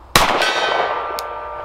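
A pistol bullet from a Sig P365 X Macro striking a steel gong target, a single sharp metallic clang that rings on with a long, slowly fading tone, loud and alone without talk.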